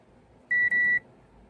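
Continuity tester beeping while probing the thermal fuse of a Philips HD4911 induction cooker with an E9 error: a loud, steady electronic tone of about half a second, briefly broken once, over quiet room noise.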